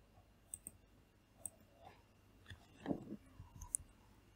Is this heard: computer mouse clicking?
yes